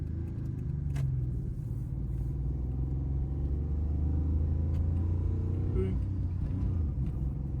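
A near-40-year-old Subaru Justy 4WD runs down a road in fourth gear, its engine a steady low rumble with road noise throughout, heard from inside the car.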